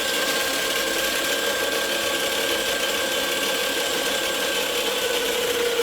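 An electric DEMON X RIPZ dirt bike motor spinning its rear wheel at full throttle during controller auto-learn calibration, giving a steady, continuous whine with a buzzy, tonal edge that holds evenly throughout, with no talk.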